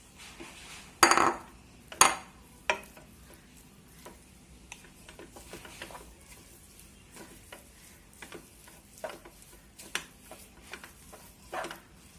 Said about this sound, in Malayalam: നമുക്ക് മാഗിയും ചേർത്ത് മിക്സ് ചെയ്യാം